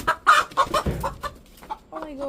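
Hens cluck in a choppy string of short calls close by, ending with a drawn-out, rising squawk; faint voices murmur underneath.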